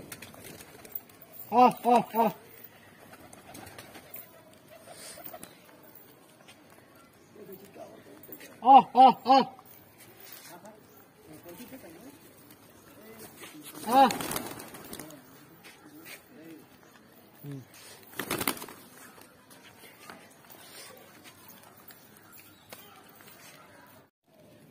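Blind pigeon being fed bread pieces by hand, giving soft throaty coos in short pulsed bursts, close, with a person's voice speaking and calling between them and occasional handling noises.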